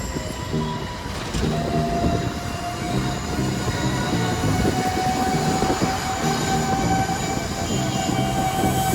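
A metro train runs on its track, with a steady rumbling roll, rhythmic clicking of wheels over rail joints and a high, sustained squeal of wheels along the line, loud and continuous throughout.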